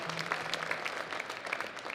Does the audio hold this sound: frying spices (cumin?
no